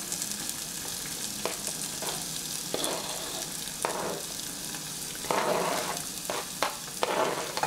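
Onions tossed into a hot pan for a cabbage dish, giving a soft continuous sizzle with several brief scraping stirs and clatters spaced through it.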